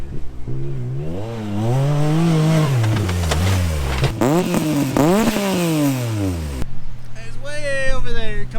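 A Yamaha YXZ 1000 side-by-side revs hard over trail jumps, its engine rising and falling in repeated surges before dropping to a distant whine, with a voice talking over it.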